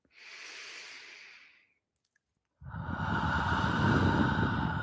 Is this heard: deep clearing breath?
yes